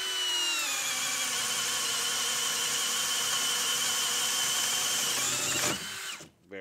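A Metabo 12V PowerMaxx cordless drill on speed 1 in drill mode whines loudly and steadily for about six seconds, then spins down abruptly at the end.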